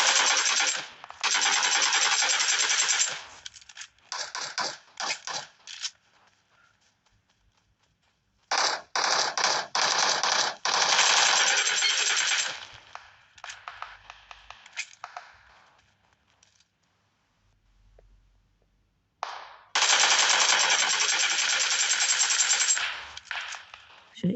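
Rapid automatic gunfire from a weapon in the video game PUBG on the Erangel map, loud sustained bursts separated by short gaps and quieter single shots, with no talking over it.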